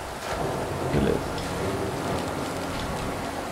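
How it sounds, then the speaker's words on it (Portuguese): Heavy rain in the video game INMOST pours as a constant, dense hiss at moderate level, with a brief louder swell near the start. "A chuva é intensa."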